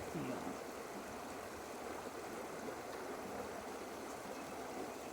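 A small creek flowing steadily nearby, a soft continuous wash of running water with no clear breaks, faint and even throughout.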